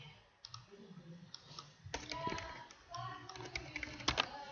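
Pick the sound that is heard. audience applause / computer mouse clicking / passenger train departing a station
computer mouse clicking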